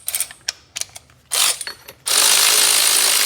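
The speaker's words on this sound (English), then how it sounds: "Now these should go on with a regular ratchet" A hand ratchet clicks as new nuts are tightened on a 2018 Ford F150 EcoBoost during a 2.5-inch Rough Country leveling kit install, with quick bursts of clicking and then a continuous rapid whir, loud and close.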